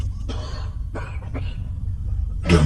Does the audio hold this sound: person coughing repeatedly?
yes